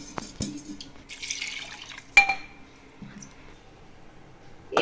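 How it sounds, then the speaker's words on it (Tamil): Water is poured into a pot of Chettinad chicken biryani in a home kitchen, making a brief splashing pour with a few drips and light clinks of the vessel, quiet and close. "இப்போ நம்ம தண்ணி ஆட் பண்ணிக்கலாம்."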